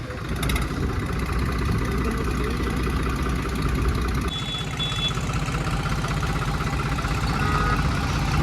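A tractor engine runs steadily at a low idle close by, a continuous throbbing rumble with a slight change in tone partway through.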